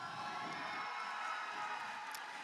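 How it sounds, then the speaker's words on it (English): A crowd of spectators cheers and shouts for the Red Alliance at a FIRST Robotics competition in Belton, Texas, a sustained distant roar of voices filling a large indoor arena. "I think I can get people to cheer louder for the Red Alliance."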